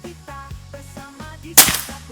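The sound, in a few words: air rifle shot at steel target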